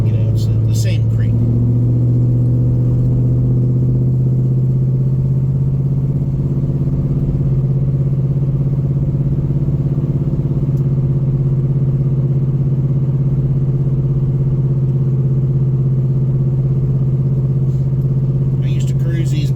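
A 1970 Chevelle cruises along country back roads, its engine producing a loud, steady low rumble that holds constant throughout, with someone talking over the drone.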